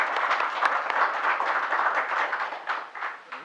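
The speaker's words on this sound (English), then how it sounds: "we'd like to give you a round of applause" Applause rings out at a city council meeting, a sustained round of clapping from a crowd that stays fairly even and lively before tapering slightly.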